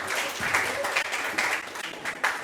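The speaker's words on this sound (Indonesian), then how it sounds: "Kasih tepuk tangan" Students and audience applaud at a school student-council candidate debate, a brisk burst of clapping with uneven swells, fairly close and without talk.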